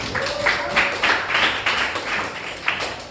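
Students in a classroom applauding a presenting group, a short round of rapid, dense clapping from many hands, close and steady for a few seconds.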